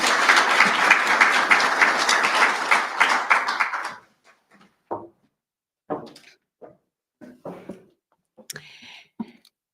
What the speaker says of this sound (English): I think she deserves a much better round of applause